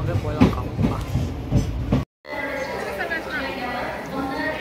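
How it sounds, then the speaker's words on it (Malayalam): Inside a moving train's AC passenger compartment, a steady low rumble and rhythmic rolling carries on beneath chatter from passengers, broken by a brief cut to silence before the rumble resumes. "നമ്മൾ ട്രെയിനിൻ്റെ AC കമ്പാർട്ട്മെൻറ്റിലൊക്കെ പോവുകയാണ്."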